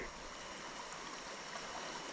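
Water of Cooper Creek in the north Georgia mountains rushes and hisses in a steady, even wash, fairly faint, with no voices over it.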